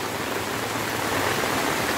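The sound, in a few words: floodwater flowing from the road into the market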